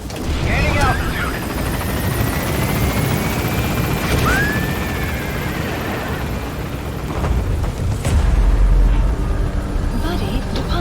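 A helicopter in the game Metal Gear Solid V: The Phantom Pain rotors loudly and steadily as it lifts off, with radio-style voices talking over the constant chopping roar.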